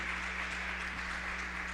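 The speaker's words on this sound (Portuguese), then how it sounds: "as palmas para louvar o santo nome do nosso" A church congregation claps in praise, a soft, distant, even patter of many hands over a constant low hum, with no voices standing out.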